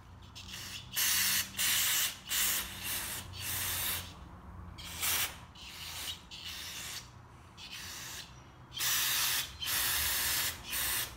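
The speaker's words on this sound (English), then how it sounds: "carburetor cleaner will take off paint" Carburetor cleaner is sprayed onto the carburetor of a 1997 Craftsman lawnmower in about a dozen close, loud hissing bursts of varying length, separated by short pauses.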